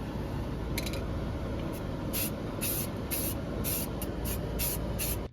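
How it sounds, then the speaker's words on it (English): Short hissing bursts of an aerosol spray can, repeated in quick irregular pulses over a steady background hum. "I just spray painted it all white"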